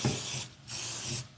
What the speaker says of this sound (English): Each of them, we just spray a little Pam in there.